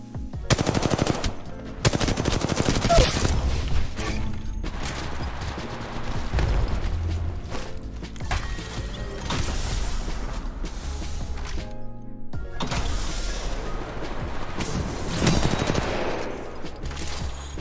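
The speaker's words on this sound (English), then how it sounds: "We're just putting shots into him right now." Gunfire in the Apex Legends Mobile video game: loud, dense bursts of rapid automatic fire with short pauses between volleys, sustained and close throughout.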